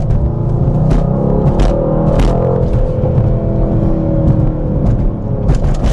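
Mercedes-Benz C63 AMG facelift with its V8 engine in Sport Plus mode, a loud close rumbling drone with rising and falling revs and sharp crackling pops scattered throughout.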